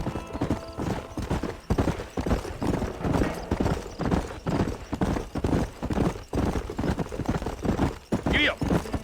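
Horse hooves clip-clop in a steady trotting rhythm during a ride in the Red Dead Redemption video game, close and prominent, with someone speaking over the hoofbeats and a short whinny near the end.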